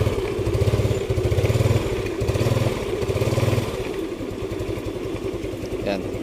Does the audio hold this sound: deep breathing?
no